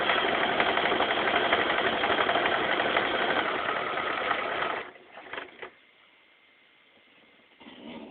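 A domestic sewing machine stitches a quarter-inch seam on a T-shirt quilt, a fast steady whirring run for about five seconds, then stops briefly with small clicks before starting again at the end.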